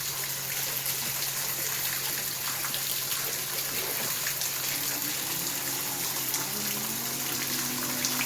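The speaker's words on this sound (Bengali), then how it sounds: "কল খুলে রেখে দিয়েছে দেখুন।" Water pours steadily from an open tap on a Kolkata street, a constant close gushing rush with no pauses.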